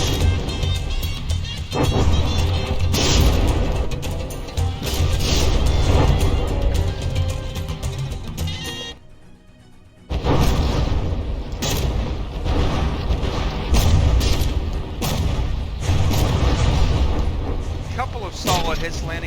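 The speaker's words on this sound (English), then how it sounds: "Ooh, Pain Train taking some solid hits from those mortars." Mortar fire striking battleships in the naval combat game From the Depths: dense, continuous booms and mechanical rumbling with a brief lull midway, loud and close, with a commentator speaking over the action.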